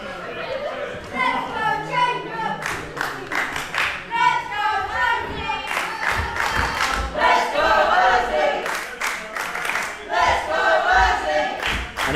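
A wrestling arena crowd divided between two favourite wrestlers, rhythmic chants and cheers trading back and forth with bursts of clapping and stomping, loud and sustained throughout, with a commentator talking over the noise.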